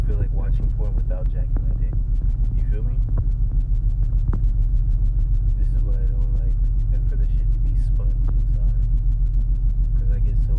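Steady low engine rumble and hum inside a moving car, continuous throughout, with a voice talking over it.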